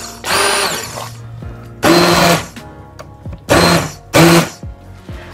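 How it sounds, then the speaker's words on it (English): Four loud whirring bursts from a hand blender blitzing spiced feijoa chutney, each a second or less long, with quieter gaps and faint kitchen clatter between them. "I'm just going to use my hand blitzer here."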